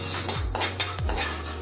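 Fenugreek seeds roasting in a pan make a short burst of close, dry stirring scrapes and light rattling against the metal, three quick strokes over a faint sizzle, with no voices.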